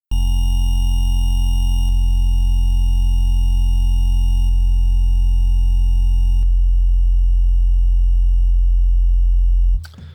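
Ableton Operator synthesizer tones with their upper harmonics rolled off play as a loud, sustained, steady pitched drone. Faint shifts in timbre occur every couple of seconds, and the sound cuts off abruptly near the end.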